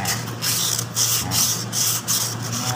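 A brake part rubbed by hand with sandpaper, steady rasping strokes in a regular back-and-forth rhythm, close and fairly loud, with no talking.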